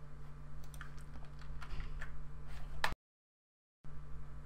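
Quiet clicking of keys on a computer keyboard, a run of irregular close taps over a low steady hum, ending in a sharper click before a brief cut to silence.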